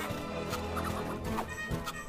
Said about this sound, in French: Plutôt tes copines, comme ce sont des poules.